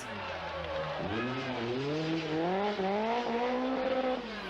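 Rally car engine revving hard and rising through gears, with a tire squeal at the start, loud and close, the pitch climbing in repeated upward sweeps.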